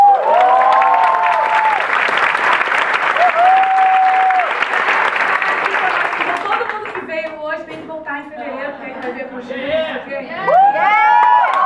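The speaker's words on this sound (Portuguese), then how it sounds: "Uma salva de palmas de novo para o nosso querido Jules." Loud theatre audience applause and cheering at the premiere of a Beatles tribute stage show, dense clapping for about seven seconds that thins out, with voices and whoops rising through it and swelling again at the end.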